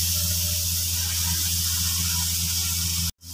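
Half a kilogram of mutton mince frying in spices in a pot, a steady close hiss of sizzling fat running continuously before cutting off abruptly near the end.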